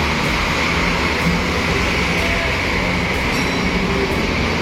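ALS passenger train 91 rolls past at Klender, a loud, continuous rumble of wheels and carriages close by with faint metallic clatter throughout.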